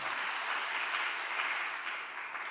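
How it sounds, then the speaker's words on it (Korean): Steady applause from a church congregation at a thanksgiving night service, a dense, even clatter of many hands that holds for a couple of seconds before easing off slightly. "박수 한번 주세요."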